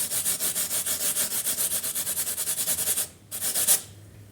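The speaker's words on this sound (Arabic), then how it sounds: "غادي ندير لكم هذيك العفسه باش تسمعوا ديك الخرخاشه" Close, dry crunching and crackling repeats in quick, regular bursts as a crisp pan-fried stuffed pastry is broken apart by hand.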